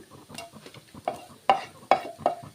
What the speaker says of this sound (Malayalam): ഈ തേങ്ങേനൊക്കെ നമുക്ക് സൈഡിലേക്ക് അങ്ങോട്ട് മാറ്റി വെച്ച് കൊടുത്തിട്ട്